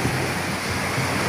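Sea waves wash onto the beach at Sual, Pangasinan, a steady, dense surf roar with no breaks, close and fairly loud for a brief moment.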